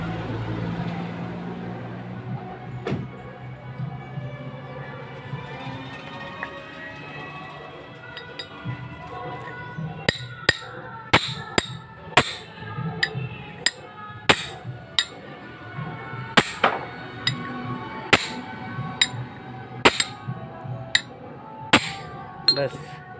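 Sharp metallic hammer taps strike an R190 diesel engine piston being fitted tight in a workshop, a rapid irregular series of loud clinks after a quieter stretch of low engine-shop rumble and background voices.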